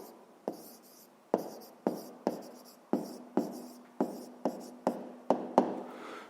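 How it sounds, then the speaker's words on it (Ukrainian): Handwriting in a notebook, a dozen crisp pen strokes tapping and scratching in a fairly regular rhythm, quiet and close, with no talking. "Пишемо тоді висновок."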